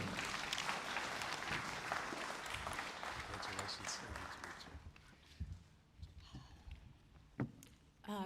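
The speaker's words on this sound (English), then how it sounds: "A round of applause for our next speaker, Professor Cliona Mhurchu" An audience at the Te Poutoko Symposium 2025 applauds the keynote speaker: a dense wash of clapping for about five seconds that thins out and fades, followed by a quieter room with a few isolated knocks and rustles.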